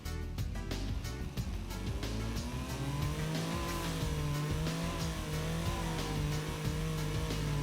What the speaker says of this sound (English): it's only a half-litre inline 3, so wouldn't expect it to be too loud